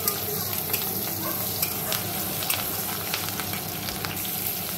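Oil and butter frying in a wok, a loud, dense, continuous sizzle close up with faint stirring scrapes.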